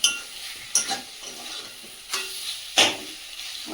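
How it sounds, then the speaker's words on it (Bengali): Cooking oil heating in a pan, a soft hiss with a few sharp clinks and scrapes of a utensil against the pan, close by and with no talk. "তেল উঠবে তো, ছালে থেকে তেল দিয়ে এখানে অল্প করে দিই।"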